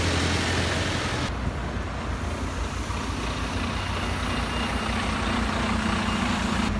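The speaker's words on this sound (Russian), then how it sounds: "А вот и тот самый красный двухэтажный автобус." A red double-decker bus moves through busy London traffic on Florence Road, its engine rumbling steadily and fairly loud among the continuous roar of road noise, with no voices.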